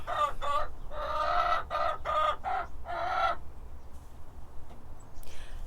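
A hen clucks in a series of close, throaty bursts, then falls quiet with faint background rustle.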